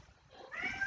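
A cat gives a single short, faint meow, rising near the end of a quiet indoor moment.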